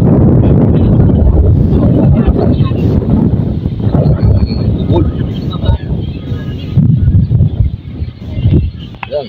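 At a beach, strong wind buffets the microphone with a loud, continuous low rumble, while voices talk over it.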